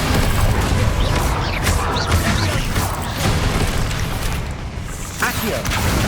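Incendio fire spell cast in Hogwarts Legacy, a dense burst of booming, crackling combat effects that stays loud and continuous throughout, with voices mixed in.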